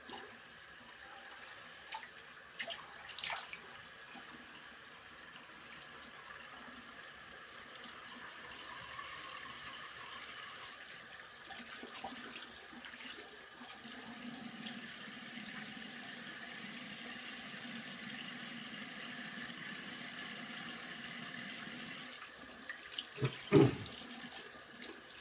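A bathroom tap runs steadily for rinsing after a shave, a soft continuous stream with occasional splashes and a few louder water bursts toward the end.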